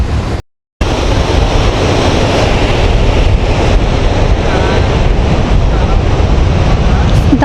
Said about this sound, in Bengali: যেভাবে পাথরগুলোতে এসে আছড়ে পড়ছে জলগুলো, দারুণ লাগছে